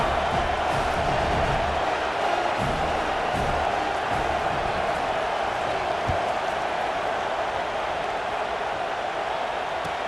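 Stadium crowd ambience from the video game EA Sports College Football 26 during a crosstown rivalry game, a steady, broad murmur of a large audience with faint scattered cheers, constant and moderately loud across the whole stretch.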